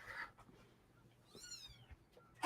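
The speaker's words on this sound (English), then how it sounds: "I brought the kitten back in." A kitten gives one faint, short meow in an otherwise quiet room, followed by a brief louder noise at the end.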